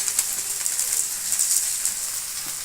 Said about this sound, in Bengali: আলুটা খানিক সেদ্ধ হয়ে এসছে, ভাজা ভাজা হয়ে এসছে, জলটা মরে যাচ্ছে